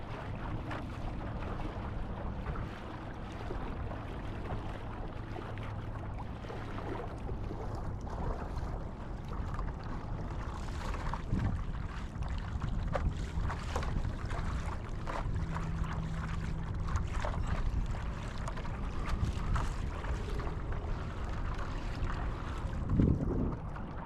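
Steady wind noise and water rush as a windsurfer sails in towards the shore, a continuous broadband roar buffeting the microphone with occasional gusts and splashes, no talking.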